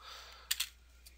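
A single computer keyboard key pressed at a desk, giving a quick double click close by and a fainter tap shortly after, over a quiet background hum.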